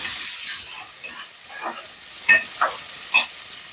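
Onion with garlic and ginger paste frying in oil in a pan, a steady soft sizzle with occasional louder crackles and stirring scrapes, close by, with no talking.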